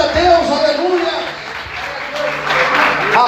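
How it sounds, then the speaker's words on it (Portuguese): A church congregation claps in praise during a worship service, a steady wash of applause running throughout with voices mixed in. "Você pode aplaudir, glorificando e exaltando a Deus."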